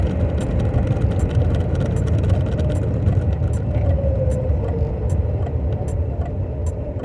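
A 1974 Citroën GS air-cooled engine runs steadily after a cold start in freezing weather, a dense continuous rumble close by with a faint ticking layer over it and no talk.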